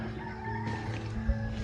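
Farm chickens cluck and crow close by in a backyard garden area, a short burst of fowl calls over a steady background hum.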